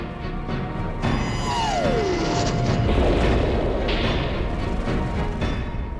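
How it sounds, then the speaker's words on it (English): Napalm dropped by A-4 jets detonates in heavy, rumbling explosions during a 1968 Vietnam battle around a citadel, with a descending whistle before a deep, sustained roar and further thuds and crashes. "two A-4 jets dropped napalm to clear one area with devastating effect."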